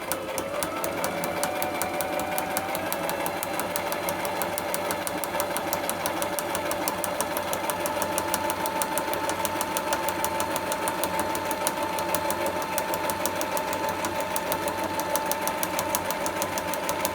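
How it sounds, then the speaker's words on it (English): Close and loud, a sewing machine runs continuously, its fast steady rhythmic clatter and motor hum stitching a straight seam on a homemade gear bag. "stitching that seam there. I've just got to stitch that up nice and straight."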